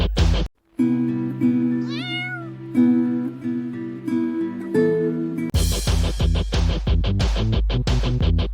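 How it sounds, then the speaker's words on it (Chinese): A cat meows several times, drawn-out and wavering, added as a sound effect over a steady background, followed by a rhythmic, punchy music beat. "最后加入少少猫咪的叫声"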